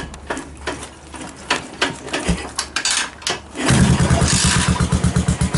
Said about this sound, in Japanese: バッテリーがないのでエンジンかけます。